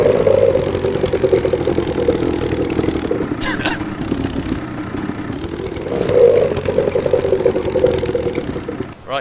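Motorbike engine in the video game Nether, a continuous mid-pitched idling drone with a couple of swells in revs, heard up close with no one talking over it.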